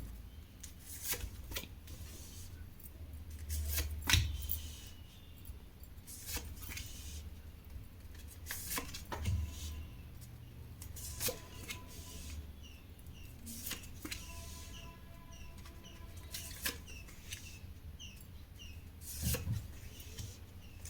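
A deck of tarot cards is handled and shuffled, giving soft rubbing and riffling bursts every few seconds with quiet gaps between, close and fairly faint.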